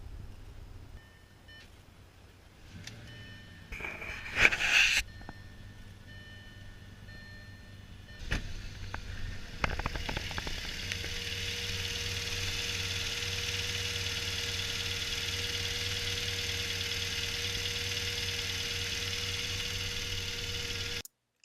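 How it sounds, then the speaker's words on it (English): Some clicks and a brief whir, then a 2007 Audi S8 V10 engine starts and settles into a steady, even idle hum that runs to the end. "Once that's done, start it up and listen."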